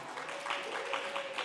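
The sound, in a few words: audience applause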